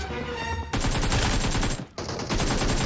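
Loud, rapid automatic gunfire in PUBG Mobile, a dense close burst that breaks briefly and then resumes.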